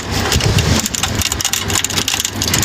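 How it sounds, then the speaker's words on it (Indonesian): Heavy rain pours in a steady, dense hiss, loud and close, heard from a hotel, with a low rumbling undertone and no voices. "Iya loh hujan loh ini guys."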